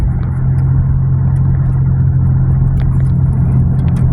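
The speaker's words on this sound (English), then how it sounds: "Hang on, driving here." A car being driven gives a steady, loud low drone with a constant engine hum, heard from inside the cabin with faint clicks over it.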